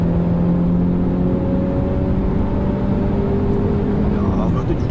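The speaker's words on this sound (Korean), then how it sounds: "여기서 이제 좀 악셀을 이제 좀 깊게 밟아보면" A Mercedes E200 mild hybrid sedan accelerates hard with the pedal pressed deep, its engine a steady rising drone heard from inside the cabin, smooth and fairly subdued, with the pitch climbing then easing as it shifts near the end.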